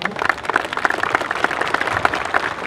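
An audience applauds at a Bihar Police academy passing-out parade in Rajgir, with dense, steady clapping that fills the whole stretch at an even, enthusiastic level.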